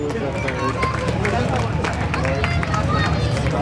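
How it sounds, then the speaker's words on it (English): Crowd at Mount Pleasant Speedway in Michigan, at a Mini Wedge 10-14 feature, applauding third-generation driver Avery Harvey: steady, dense clapping and cheering that holds loud and continuous throughout, with crowd babble mixed in. "give Avery a nice round of applause"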